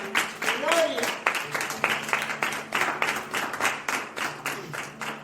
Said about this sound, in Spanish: Dar un aplauso grande a la palabra.